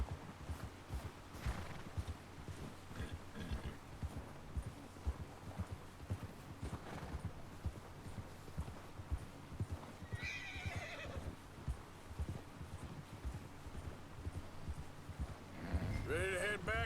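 Horse in Red Dead Redemption 2 clip-clopping at a walk, with a couple of whinnies and neighs, one loud near the end, over faint game ambience and occasional speech.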